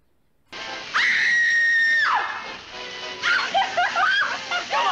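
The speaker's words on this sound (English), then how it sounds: "And I love the fake-out scream." A loud, sustained high scream from the 1951 film Strangers on a Train rings out for about a second, followed by shrieking laughter and excited cries from a fairground crowd.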